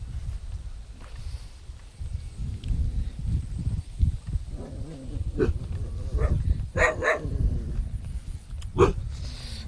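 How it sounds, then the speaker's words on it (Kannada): Dogs bark at strangers in scattered bursts over a low rumbling background, some barks sharper and closer than others, with a faint voice now and then. "ನಾಯಿ ನಮ್ಮನ್ನು ನೋಡಿ ಬಗಳಾಕತ್ತವು, ಹೊಸ ಮನುಷ್ಯರು ಅಂತೇಳಿ"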